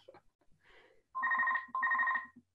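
Mobile phone ringtone sounding two bright electronic ring bursts with a rapid pulsing pattern, close but moderately quiet, after a few faint indistinct sounds in a quiet room.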